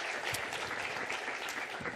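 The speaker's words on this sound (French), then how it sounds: "On peut là aussi l'applaudir pour l'encourager." Audience applause for Aurélie Mettet, a professor at the Institut Agro Montpellier, at a talk on vineyard cover management: steady, dense clapping from a room of listeners, even in loudness throughout.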